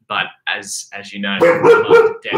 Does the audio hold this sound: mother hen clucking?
no